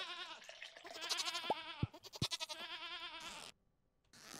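Goats in the farming game Stardew Valley bleat repeatedly with wavering, nasal cries that overlap and fill most of the clip, with a few sharp clicks partway through, then a brief quiet gap before another bleat.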